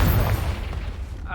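A Confringo spell blast explodes in a video game with a deep, rumbling boom that carries on for a moment, while a voice speaks over it.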